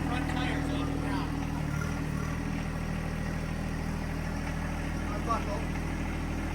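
A John Deere 2025R compact tractor engine runs at idle up close, a steady low droning hum with constant loudness throughout while someone speaks over it.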